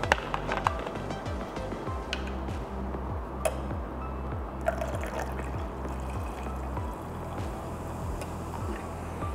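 Soda is poured into a ginger mocktail, giving a soft continuous pour with faint fizz and trickling throughout, with a low repeating hum in the background.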